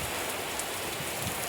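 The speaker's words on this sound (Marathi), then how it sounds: "असा पाऊस चाललाय धो धो धो धो धो धो धो धो" Heavy rain pours down steadily in a farm setting, a dense continuous hiss of drops hitting surfaces with no voices, close and loud throughout.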